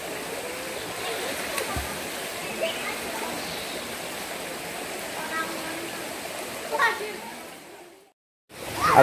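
Cool natural spring water at Sumber Mrutu rushes and splashes steadily like a small stream, a dense continuous wash close by that thins out near the end.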